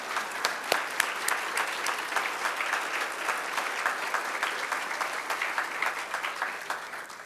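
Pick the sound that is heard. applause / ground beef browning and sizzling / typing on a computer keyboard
applause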